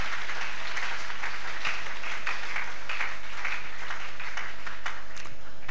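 Congregation in a church bursting into sustained applause, dense clapping throughout with no voices on top, steady and fairly loud.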